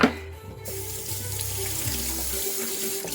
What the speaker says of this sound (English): I actually like to rinse my knife when I'm cutting onions.